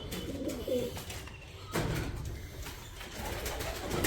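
Pigeons coo in a cage on a farm, their soft repeated low calls overlapping closely and steadily, loud and near, with no talking.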